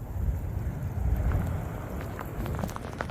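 Wind and rain from an approaching storm roar steadily outdoors, a dense low rumble with gusty swells and scattered patter, no voices over it.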